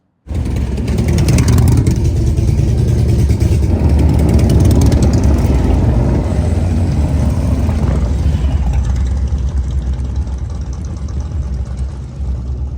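A Harley-Davidson Low Rider ST motorcycle idling on a Brooklyn street, a loud, close, deep, steady engine rumble that carries on alone with no talk.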